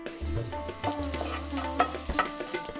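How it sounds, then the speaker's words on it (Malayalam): Sliced shallots fry in a pan for a Kerala curry, a soft continuous sizzle with light stirring scrapes and clinks, close and steady with no talking. "ഇനി ചുവന്നുള്ളി ഒരു ലൈറ്റ് ബ്രൗൺ കളർ ആകുന്നത് വരെ ഒന്ന് മൂപ്പിച്ചെടുക്കാം"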